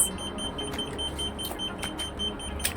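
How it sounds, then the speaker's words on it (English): A small electronic camera finder device emits thin, high-pitched beeps in a repeating series, steady and fairly close, against a quiet room background. "It will continuously beep for 10 seconds."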